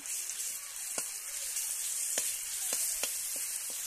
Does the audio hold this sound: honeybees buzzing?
no